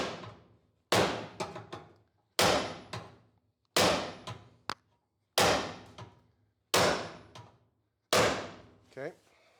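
A hammer strikes the metal body of a 1951 Ford hot rod around a door post, seven loud ringing blows at an even, deliberate pace, each decaying before the next.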